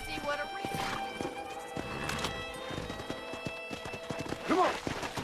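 Horse hooves clip-clop through a Red Dead Redemption game scene, a steady rhythmic patter of fairly close steps with a brief whinny-like burst near the end, mixed with game music and voices talking over it.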